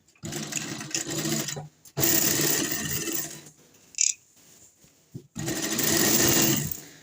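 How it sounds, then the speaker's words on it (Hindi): A sewing machine stitches the seat seam of palazzo pants in three loud, rapid whirring runs, separated by short pauses and a small click, with no talking. "सबसे पहले हमने इसके आसन की सिलाई लगानी है"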